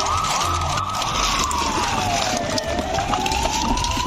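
A toy police car siren wails in a steady rising and falling tone, loud and close, running continuously without speech.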